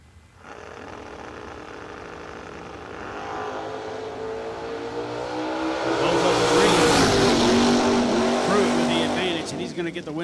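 A wagon and a Mopar Dodge drag car launch side by side at a drag strip, engines roaring louder and rising in pitch as they pull away, with an announcer talking over the noise.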